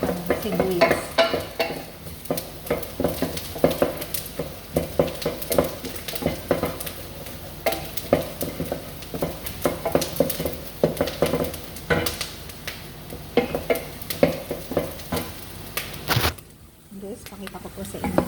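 A large batch of onions frying in a pot for meat salona is stirred steadily, giving continuous sizzling with scraping and stirring strokes, while a person talks over it throughout.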